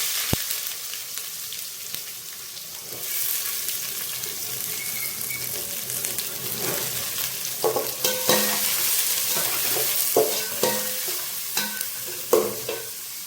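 Onions fry in hot oil in a pan while being stirred for a fish biryani, a steady sizzle with irregular scraping and knocking strokes growing busier toward the end, close and moderately loud with no talk.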